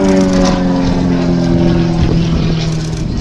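An Extra 300S aerobatic plane drones through an air display at the Midlands Air Festival, its propeller engine a loud, steady buzzing hum that holds throughout with slight pitch wavering.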